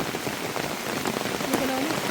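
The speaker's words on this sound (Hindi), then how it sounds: "बारिश बहुत ज़्यादा बढ़ चुकी है" Heavy rain pours steadily onto a lake at Kamal Taal near Naukuchiyatal, Bhimtal, a dense continuous hiss of drops on water and surfaces, with faint bird calls or voices briefly over the wash.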